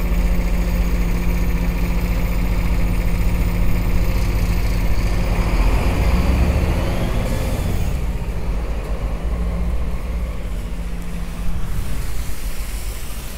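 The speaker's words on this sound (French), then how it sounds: "Putain de camion qui transporte du goudron." A truck carrying tar rumbles with a low, steady heavy engine drone that stays loud and constant throughout, the pitch shifting slightly as the vehicle passes or changes speed.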